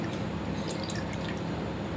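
Soaked raw rice draining its water in a home kitchen while athirasam is being prepared, giving soft, faint steady drips and trickles against a low continuous background hum.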